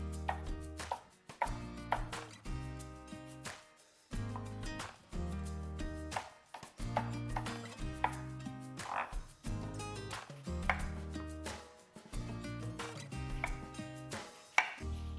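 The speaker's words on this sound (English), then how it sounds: "So we're just going to slice these apples and then we're going to add them into the bowl with our filling." Apples being sliced with a knife for a Dutch apple pie, giving repeated sharp cutting taps at an irregular pace, close by, under steady background music.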